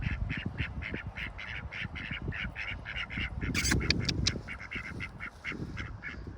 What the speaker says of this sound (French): voilà la petite visite des canards sur le green